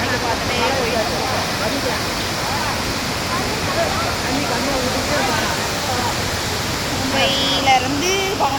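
Kutralam waterfall pouring in a dense, constant roar that fills the scene, with a crowd of bathers and onlookers murmuring faintly underneath.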